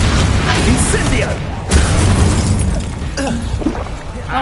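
A spell cast in the video game Hogwarts Legacy, heard as a loud burst with a crackling, roaring rush that fades and flares again over several seconds, mixed with game effects and a voice.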